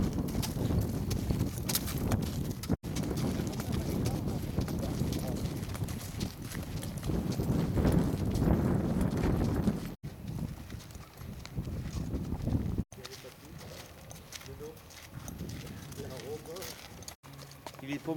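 A dappled grey horse walks outdoors, its hooves clip-clopping steadily through wind noise on the microphone, with people talking over much of the sound.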